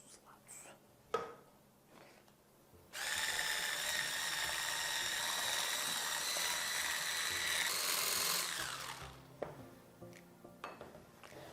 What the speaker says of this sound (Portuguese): se eu ligar o mixer, vai creme para todos os lados